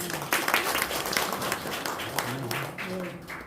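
An audience at a Korean rescue-group system launch and plaque presentation gives a round of moderate applause, dense clapping that fades slightly toward the end, with voices murmuring underneath.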